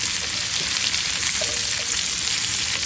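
Taro leaves with green chillies and garlic frying in hot oil give a steady, dense sizzle that stays loud and even throughout, with no voices.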